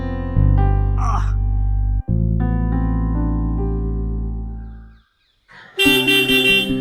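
A car horn blares in long sustained honks, one held for several seconds, followed after a short pause by another loud blast.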